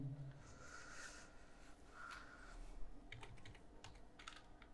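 Text is typed on a computer keyboard: quiet, irregular bursts of key clicks close to the mic, with short pauses between runs and no speech.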